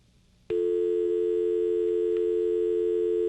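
A steady, continuous telephone dial tone starts abruptly after a brief moment of quiet and holds unbroken, loud and close.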